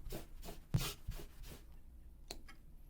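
A marking tool scratches along the top edge of quilt fabric in several short strokes, close and fairly soft, with a few louder taps and rustles between them and a quieter stretch toward the end.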